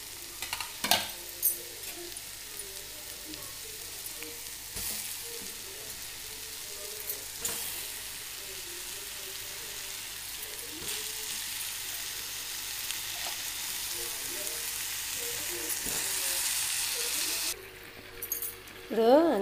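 Paneer cubes fry in a hot pan for a simple paneer curry, a continuous close sizzle with occasional spoon clinks and stirring, some background voice, and a brief louder clatter near the end.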